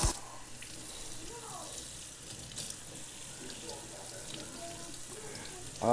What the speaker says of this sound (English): rinsing off the filter pad will get rid of any excess carbon